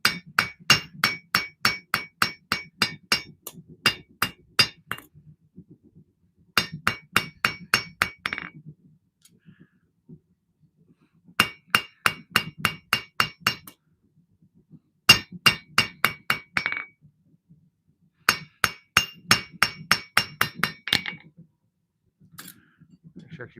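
Custom knife blade being hand forged with a hammer: five close, loud volleys of a dozen or so sharp ringing blows each, separated by short pauses with faint low murmuring between.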